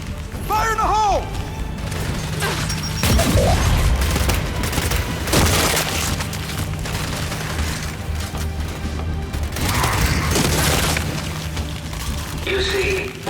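In the video game Gears 5, a grenade explosion and gunfire ring out amid continuous loud battle noise, with booms, crashes and bursts of shooting, while voices speak over the combat.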